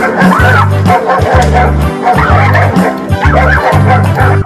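Several dogs bark in a steady repeated pattern, loud and close, with yips and whimpering mixed in and a busy, full backdrop behind them throughout.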